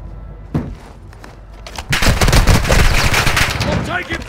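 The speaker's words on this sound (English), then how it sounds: "You are taking effective fire." Video game gunfire, a single sharp shot followed by a dense, sustained burst of rapid automatic fire that grows loud and continuous, with faint talk mixed underneath.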